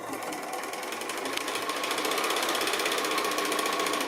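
A sewing machine stitches quilt block fabric in a steady, rapid mechanical whir, its needle clattering evenly at close range for several seconds without any talking.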